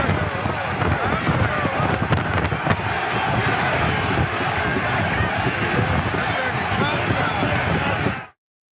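A crowd of Trump supporters clashing with police, a dense roar of shouting voices and commotion with thuds and bangs, loud and continuous before cutting off abruptly.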